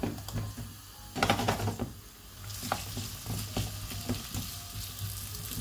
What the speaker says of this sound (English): Hot wok, oil, diced potato, go in there.